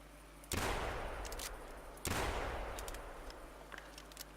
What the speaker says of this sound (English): I'm going to switch to my pump action shotgun now.